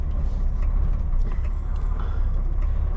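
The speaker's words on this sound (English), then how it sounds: "There's Porkchop's tractor" A tractor engine runs at a steady, close, continuous low rumble near wood shredding work, with no voices over it.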